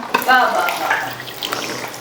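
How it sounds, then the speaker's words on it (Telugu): Water runs and splashes into a cooking pot of jaggery tamarind stew for about two seconds, close by, with a brief burst at the start and a muffled voice partly under it. "ఇప్పుడు ఇంకొంచెం నీళ్ళు వేసుకుందాం."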